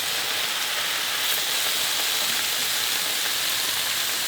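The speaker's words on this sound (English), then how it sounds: "you want the meat to kind of like start sizzling when you put it in" Meat sizzles in a moderately hot pan, a dense, even hiss that stays steady and fairly loud for the whole stretch, with no talking.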